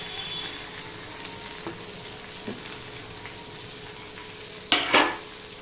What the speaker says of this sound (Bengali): এই পেঁয়াজ কুচিয়ে রেখেছি একটা আর কাঁচা লঙ্কা তিনটে এগুলো আমি দিয়ে দিলাম